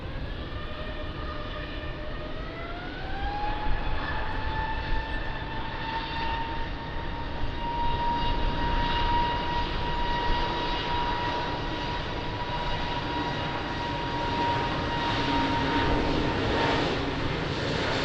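Jet airliner at Lisbon Airport on its takeoff roll from runway 20, a loud sustained engine roar with a rising whine that climbs then holds steady, heard at a distance with no voices.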